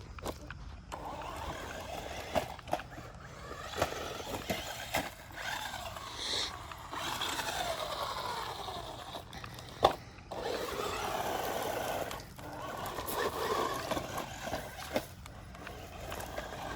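A Vevor RC truck drives with a faint whirring electric motor and intermittent clattering bumps, quiet and variable, with a person talking at times.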